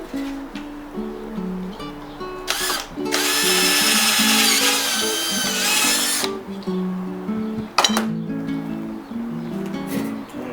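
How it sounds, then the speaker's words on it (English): A power drill bores into a patio umbrella rib in steady bursts: a loud whine sustained for about three seconds mid-clip, with shorter spurts before and after, over a faint background hum. "So do that and then drill it."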